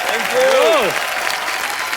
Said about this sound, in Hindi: एक बार रितेश और विवेक के लिए जोरदार तालियां।